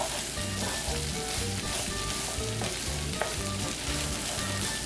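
Bacon and onions fry in a pan for Italian short ribs, a steady close sizzle with a faint rhythmic scraping underneath, with no voices.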